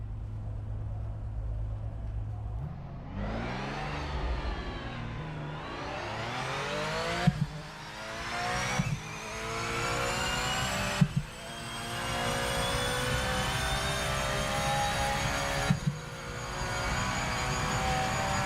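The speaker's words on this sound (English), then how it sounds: "Let's hear the bullshit sound of this Porsche." A Porsche engine in a racing video game revving hard and climbing through gears, each upshift cutting in with a sharp pop before the whine rises again, loud and continuous.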